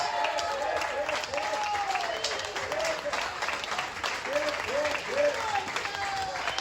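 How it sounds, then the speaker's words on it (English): Audience applause for the second-place Best Ribs winner at the 2024 London Ribfest, a steady outdoor crowd clapping with voices and cheers mixed in, moderately loud throughout. "Another big round of applause for Gonzalez."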